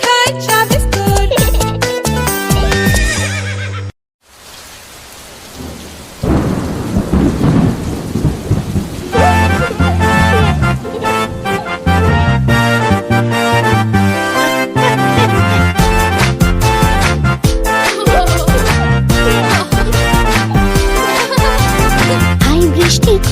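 Heavy rain pours steadily with loud rolling thunder claps, a stormy sound effect within a Bengali children's rhyme, continuing loud throughout after a brief silent break near the start.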